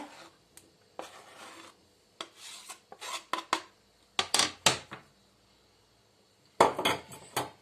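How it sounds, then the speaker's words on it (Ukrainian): A knife chops hard-boiled eggs for a bean salad in short, irregular bursts of scraping and clinking against a board or bowl, close and fairly quiet, with brief pauses between strokes. "Далі покришу яйця і теж відправляю до нашого салату."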